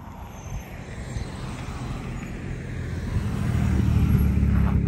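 Cars passing on a road at Garden of the Gods, Colorado, a low rumbling whoosh that swells steadily louder toward the end as a vehicle approaches nearby.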